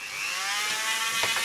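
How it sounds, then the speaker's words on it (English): A Dremel rotary tool on a flexible drive shaft drills into model railway material with a steady, continuous high-pitched whine that holds throughout, alone with no talking. "So I've got one of these flexible drives for the Dremel"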